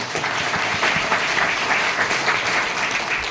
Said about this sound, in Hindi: मैं चाहूंगा मेरी वाइफ के लिए जोरदार ताली